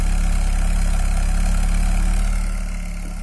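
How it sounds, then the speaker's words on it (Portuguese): The engine of a 1994 Volkswagen Santana CLi idles with a steady, smooth low rumble, close and loud, easing slightly quieter at the end, with no talk. "Mas o som do carro é muito gostoso."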